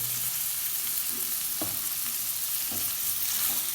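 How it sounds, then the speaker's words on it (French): Carrots and cabbage are stirred in a pot for carrot soup, giving a steady soft sizzle with a few faint utensil scrapes against the pot; no voices are heard. "on continue de mélanger"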